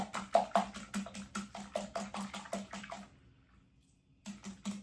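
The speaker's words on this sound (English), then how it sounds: "Try to get them as whisked up as possible." Egg yolks are whisked briskly in a bowl, a fast run of rhythmic close taps and swishes that pauses briefly before starting up again.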